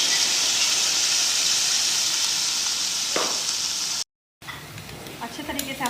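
Cashew and onion paste for a beef kofta curry hisses and sizzles steadily in a hot pan, a loud continuous frying sound, broken by a brief cut and then a few clinks of stirring.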